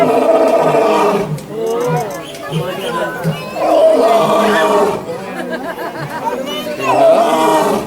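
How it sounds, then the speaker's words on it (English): A lion at a zoo roaring in repeated long, loud, grunting bursts close by, while visitors chatter and murmur in the background. "See the lion roaring, Anaya"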